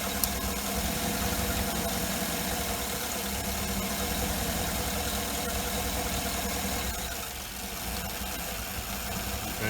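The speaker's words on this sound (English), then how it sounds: "Now the engine's just barely loping." A 2008 Cadillac Escalade with the GM 6.2L V8 idles roughly with its purge valve disconnected, a steady low engine drone with faint uneven loping that continues alone at close range.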